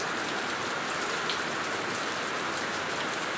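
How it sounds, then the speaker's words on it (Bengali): Heavy rain falls outside in a dense, unbroken hiss of drops hitting surfaces, steady and close throughout with no talking. "বাইরে দেখি প্রচুর পরিমাণে বৃষ্টি হচ্ছে"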